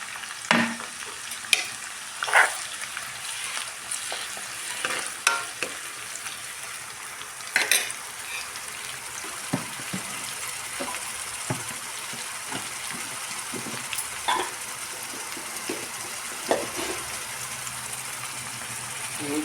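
Pieces of fish fry in a pan, a continuous hiss and sizzle punctuated by clattering stirring knocks at irregular intervals, close and moderately loud.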